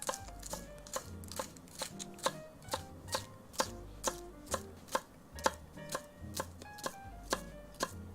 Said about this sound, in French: on taille la tige en biseau, très finement, émincé.